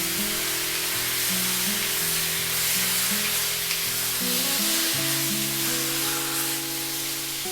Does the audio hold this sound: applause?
no